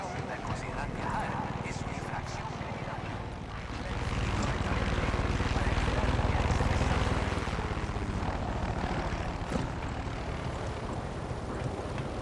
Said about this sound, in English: Is that helicopter gonna be a problem?